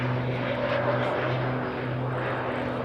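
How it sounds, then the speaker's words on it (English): Steady, loud jet engine roar from a jet-powered Pitts aerobatic aircraft at the Bournemouth air show, a low droning hum, continuous throughout without pauses; no voices. "I just love listening to the jets"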